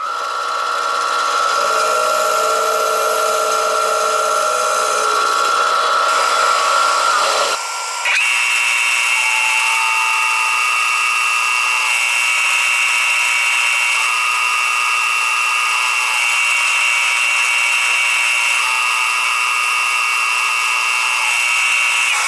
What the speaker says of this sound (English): the next step will be go to the bandsaw and cut the actual pieces